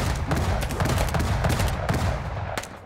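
Rapid gunfire in the video game Madness Project Nexus 2 sounds as a dense, loud stream of overlapping shots that continues without a break, then eases slightly at the end.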